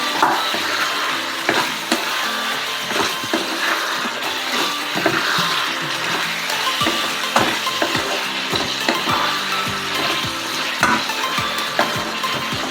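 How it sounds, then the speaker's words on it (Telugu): Chicken semi-gravy with salt is stirred in a pan over a continuous loud sizzle. A utensil scrapes and taps against the pan in frequent irregular strokes. "సాల్ట్ వేసి కలుపుకొని మంచిగా కలుపుకోవాలి"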